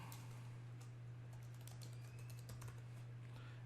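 A letter being typed on a computer keyboard: a quiet, rapid run of clicking keystrokes at close range over a steady low electrical hum.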